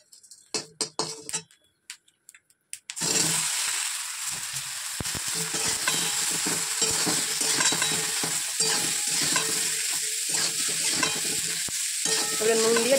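Drumstick (sajne data) pieces hit a pan and burst into a loud, continuous sizzle, with scraping and clicking of a spatula stirring through it after a few seconds of quieter taps.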